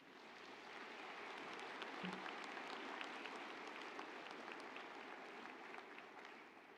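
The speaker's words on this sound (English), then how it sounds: "Please give everyone a round of applause." Steady, even applause from a large crowd at a university fall commencement ceremony, sustained throughout and heard from a distance at low level, with no voices above it.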